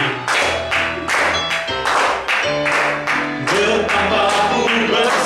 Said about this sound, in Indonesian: beri tepuk tangan di atas kepala kita